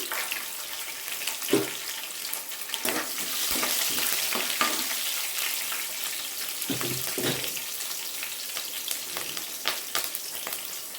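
Green chillies and tempering seeds frying in hot oil in a kadai: a steady close crackling sizzle with sharp pops and stirring knocks throughout, no talking.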